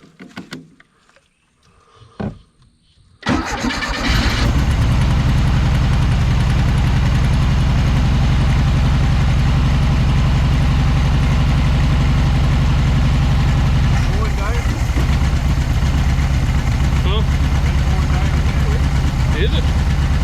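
A 1976 Volkswagen Beetle engine fitted with a 40 Ford kit runs steadily after its first start in years, a loud continuous low rumble that catches after a few seconds of quiet and holds to the end.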